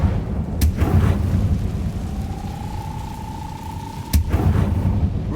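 The Incendio fire spell in Hogwarts Legacy bursts out with two sharp cracks and a deep rumbling roar of flame, a thin sustained tone hanging between them over steady background noise.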